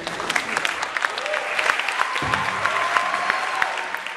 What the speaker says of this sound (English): With a big round of applause and emotional cries of admiration, Susan Sarandon received the honorary award India Catalina at the gala reception.